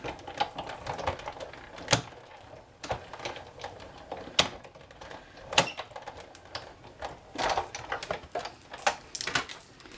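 A Big Shot die-cutting machine rolls a Flourish Thinlits flower die through in navy cardstock, giving repeated sharp clacks and thumps with rattling handle cranks in an uneven rhythm, close and alone.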